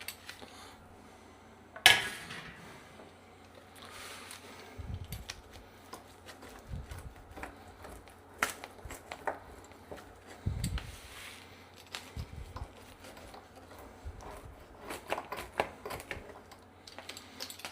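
A knife slices a pizza resting on its cardboard box, sending sparse, scattered cuts and taps across a quiet kitchen with a sharper knock near the start.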